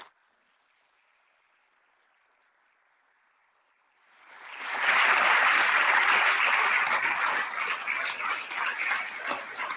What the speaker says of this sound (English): for the applause